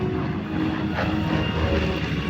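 A B-25 PBJ bomber flies past at a Marine Corps air show, a loud continuous propeller-engine drone with a slight rising swell near the middle.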